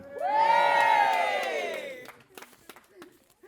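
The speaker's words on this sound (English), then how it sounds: "Cheer if you recognise it." Wedding guests at the reception speeches burst into a loud, swelling cheer that holds for about two seconds and then fades, leaving scattered voices and small noises afterward.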